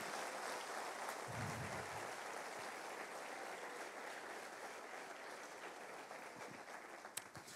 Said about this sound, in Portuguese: Se vai aplaudir, aplauda forte